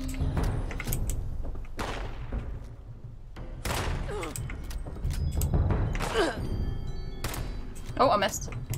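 Pistol shots fired in Fallout 76: a few sharp, loud bangs separated by pauses, set against dense game ambience and effects, with someone talking over much of it.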